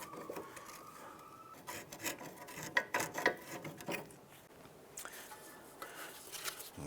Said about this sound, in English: I'm going to go ahead and use a pry bar.